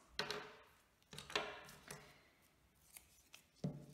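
Scissors snip and rub while handling glue dots during card making, a handful of separate crisp cuts spaced irregularly with quiet pauses between them, close and fairly soft.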